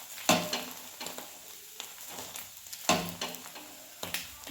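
Egg poli, an egg-coated flatbread, frying in generous oil in a pan, sizzling close by with a few sharp bursts as it is pressed or flipped, each spitting briefly then settling.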